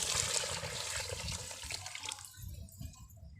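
Water poured from a bowl into a pot of cooked chicken before the rice goes in, a steady splashing pour up close that thins out toward the end, with no talking.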